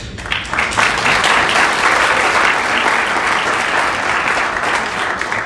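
A crowd at a business partnership breakfast applauds loudly, with dense, sustained clapping from many hands that continues evenly throughout.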